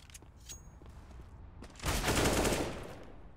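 Pistols fire in a CS:GO match, giving a quick spray of gunshots after some faint game sounds. The burst swells into a dense fusillade before fading out.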